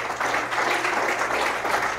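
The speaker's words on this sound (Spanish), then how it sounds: "Así que fuerte el aplauso a ese médico por excelencia." Church congregation applauding during a Pentecostal worship service, a steady dense wash of clapping that holds evenly for two seconds with a faint hum underneath.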